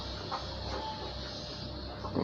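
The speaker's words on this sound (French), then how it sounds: "la machine en train de se retourner" An egg incubator's turning mechanism rotates its tray, giving a steady, continuous mechanical whir and hum at moderate volume, with a few faint clicks and no voices.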